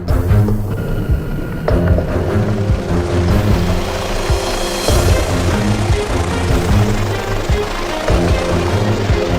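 A loud, steady mechanical whir with a rapid chopping rhythm, like an animated helicopter flying close, holding strong throughout.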